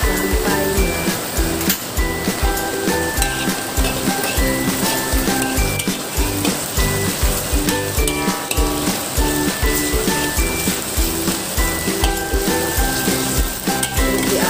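Sliced onions stir-fried for mie goreng, a loud, continuous sizzle broken by a steady rhythm of scraping stirs close up, alone without talk.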